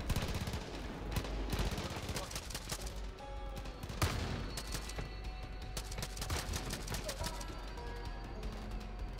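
Scattered gunshots and short automatic bursts crack through a Far Cry 5 church assault, fairly distant and irregular over a low steady rumble, with no talk audible in the clip.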